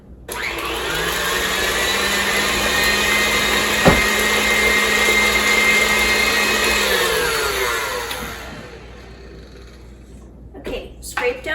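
An electric hand mixer whirs steadily for about eight seconds as it beats an egg into dairy-free chocolate chip cookie dough, then winds down and stops, leaving quiet and a few small knocks.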